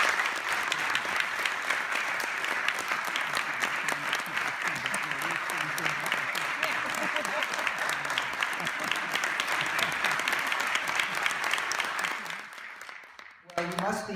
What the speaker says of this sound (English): join me in a big round of applause for both of these gentlemen